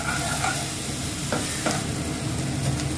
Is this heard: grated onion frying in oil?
yes